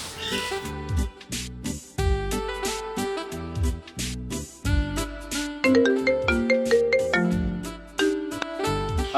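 A phone ringtone plays a bright, repeating melody of electronic tones, loud and close, running continuously with no voices over it.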